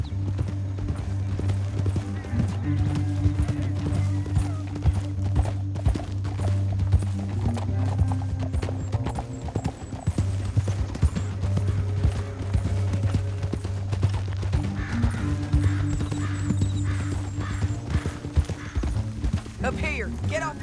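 Horse hooves clip-clop in a steady galloping rhythm in Red Dead Redemption 2, continuing under characters' spoken dialogue and a low sustained musical drone, with a brief whinny.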